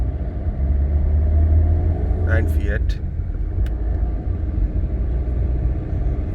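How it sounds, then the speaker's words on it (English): A 2010 Fiat Linea Emotion 1.3 Multijet diesel car driving, a steady low rumble of engine and road noise continuing throughout while someone speaks briefly over it. "The car is pretty smooth to drive."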